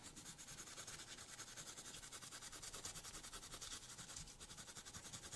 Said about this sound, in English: I'm going to do a little bit of sanding on this thing.